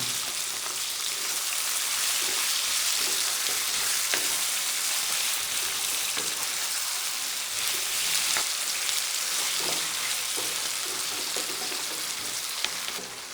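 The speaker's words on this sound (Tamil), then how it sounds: "சிக்கனையும் சேர்த்து நல்லா எண்ணெயில் மிக்ஸ் பண்ணி விட்றேன் சிக்கன் பீஸும் நல்லா எண்ணெயில் வதங்கட்டேன்" Chicken pieces fry in hot oil in a pan, a loud continuous hiss and crackle with occasional sharper pops and faint stirring scrapes throughout.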